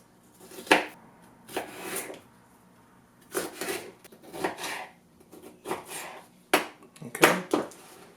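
Onion, green pepper and tomato are chopped with a knife on a board, producing irregular close knocks and slicing scrapes in short clusters with brief pauses between them.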